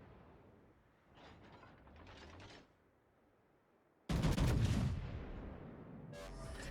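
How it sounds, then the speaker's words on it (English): Warship main guns firing in the naval battle game World of Warships, quieter mechanical turret rumbles followed by a sudden heavy booming salvo that rolls on and trails off, with another blast at the end. "I'm going to shoot my guns at him."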